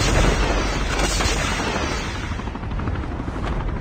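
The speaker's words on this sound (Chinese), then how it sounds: "这直升机飞不进去了，应该。" Helicopter flying in the Call of Duty Mobile battle royale, a loud steady rotor drone filling the whole stretch with dense broadband rumble, continuous and close with no speech over it.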